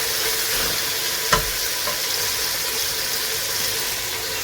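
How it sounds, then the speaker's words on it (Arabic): Chicken sizzles steadily in a hot pan as chopped red onion is tipped in, giving a single soft thump and then a continuous loud, hissing fry. "من بعد ما سخنا لي الدجاج ديالي غادي نزيد عليه البصله"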